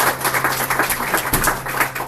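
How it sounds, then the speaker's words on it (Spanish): A church congregation applauding, steady, busy clapping from many hands filling the room at a moderate level, with no talk. "Denle un aplauso al Señor, iglesia."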